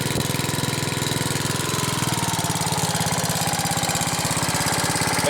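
A small engine idles low and steadily while warming up, a close, continuous rapid chugging with an even, unbroken pulse.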